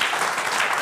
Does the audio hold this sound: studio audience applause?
yes